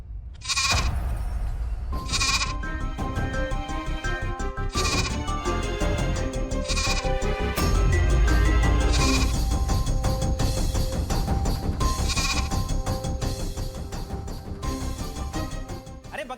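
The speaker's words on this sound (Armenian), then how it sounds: "Այդ այծը որտեղից հայտնվեց։" A goat bleats several times in short, separated cries over a busy, loud music-like backdrop, at close range and with no talking.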